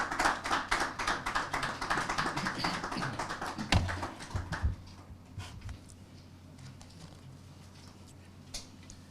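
At a One Ghana Movement lecture, an audience gives a round of applause, dense rapid clapping that fades after about four seconds into a few scattered claps.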